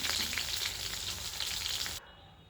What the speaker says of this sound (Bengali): পটলগুলোকে খুব ভালো করে লাল লাল করে ভেজে নিতে হবে।